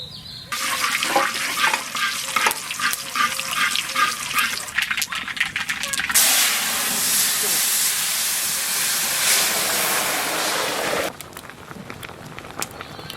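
Masoor dal tempering as mustard seeds and dried chili hit hot mustard oil: a loud, close crackling sizzle with spattering pops that flares sharply, holds steady as a broad hiss for several seconds, then drops back to a quieter simmer.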